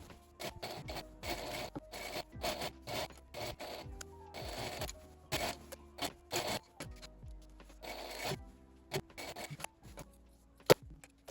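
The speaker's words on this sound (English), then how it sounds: "I just need to trim down the seam allowance" Scissors trim the fabric seam allowance on a ball gown, producing repeated close, rhythmic bursts of snipping and rustling cloth with brief pauses, ending in one sharp knock.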